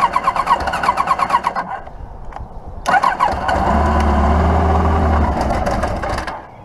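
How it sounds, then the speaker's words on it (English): A 1995 Kawasaki Voyager XII motorcycle engine cranks in rapid pulses, sputters briefly, then fires and runs with a loud, steady idle before cutting out near the end. "It's not a bad running bike right there."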